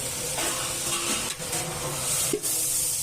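Chopped tomatoes sautéing in hot oil with onions for a vegetable biryani, a steady close sizzle and hiss running throughout with a couple of brief stirring dips.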